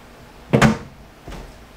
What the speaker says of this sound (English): We're gonna put our door back on, turn the machine back on